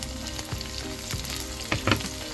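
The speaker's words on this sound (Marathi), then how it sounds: "कांदा थोडा भाजत आला की त्यामध्ये एक छोटा टोमॅटो टाकायचा" Onion and tomato fry in a pan, a dense close sizzle with several sharp scraping stirs of a spatula toward the end, no talk.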